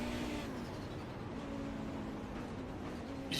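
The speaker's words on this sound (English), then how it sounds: "definitely hear that lift and coast there going into kind of the corner for Paceworks Esports" Race car in an iRacing endurance race at Road America, engine note steady with a lift and coast into a corner, continuous mid-level drone with a slight pitch shift, no talk.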